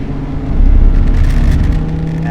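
Lamborghini Huracan Tecnica V10 engine rumbling close by, a low steady roar that swells briefly and holds, loud and alone with no voices.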